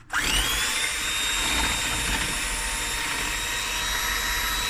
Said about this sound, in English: And then I whisk and beat.